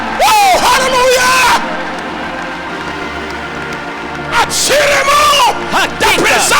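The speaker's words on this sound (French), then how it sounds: "Les acclamations!" Church congregation erupting in loud cheers and acclamation during a French and Swahili service, with two bursts of voices shouting and whooping together, separated by a quieter lull of murmuring.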